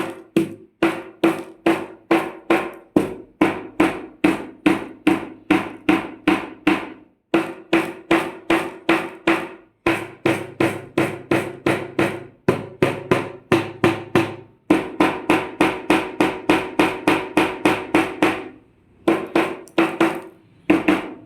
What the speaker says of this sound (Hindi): हम यहाँ पर एक हमारे पास हैमर है, हथौड़ी है, इसके माध्यम से हम इस पेपर को हिट करते हैं धीमे धीमे